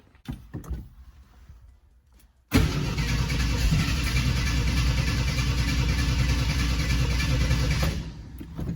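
A 1981 AMC Eagle Sundancer engine running through a short exhaust stack with a rain cap fires up after a brief crank and settles into a loud, steady idle, close by, then drops off near the end.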